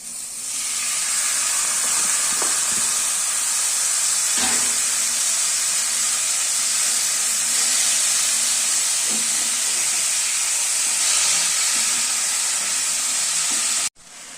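Banana flower tipped into a hot pan with ground spices and chili powder, producing a loud, steady hissing sizzle with a few soft stirring knocks, ending abruptly.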